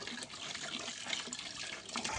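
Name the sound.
water flowing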